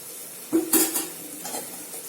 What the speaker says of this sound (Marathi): आता याच्यात आपण भाजी टाकून घेऊया